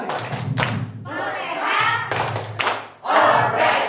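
Group at a camp playing an Indonesian clapping game, sharp rhythmic hand claps and slaps in short bursts separated by chanted voices, close and lively.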